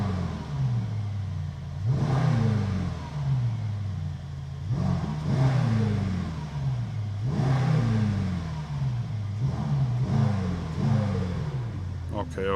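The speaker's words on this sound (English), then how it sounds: "you can hear the V8 rumble" A Mercedes-AMG GT63S E-Performance hybrid V8, not yet warm, revs in repeated swells about every three seconds, a deep rumbling rise and fall close to the microphone.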